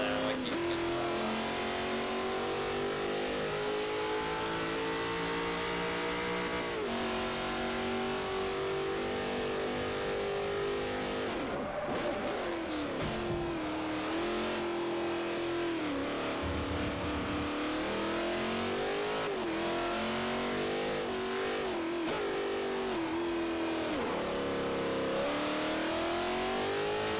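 A race car engine in the Forza Motorsport 4 video game revs continuously with rising and falling pitch through gear shifts, loud and sustained, with occasional tire squeal.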